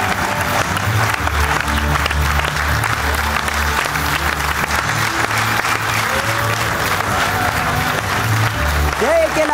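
A studio audience applauds loudly and steadily for Olympic champion Artur Alexanyan at a sports show taping, a dense sustained wash of clapping with crowd noise and a voice heard faintly underneath.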